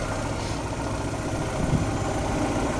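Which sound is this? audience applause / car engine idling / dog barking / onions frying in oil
car engine idling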